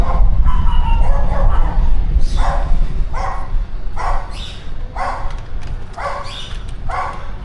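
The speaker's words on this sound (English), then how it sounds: "lots of barking dogs" Dogs in a residential neighborhood of Playa del Carmen bark repeatedly at a steady rhythm, about one bark per second, fairly close and loud over low street background noise.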